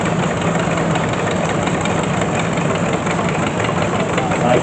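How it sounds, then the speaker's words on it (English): A 1958 John Deere 720 tractor engine runs loud and close, a steady, heavy, rough drone that continues with no pause from start to finish at an outdoor show. "1958 John Deere 720 owned by Mike and Lisa Klein of Fairfield"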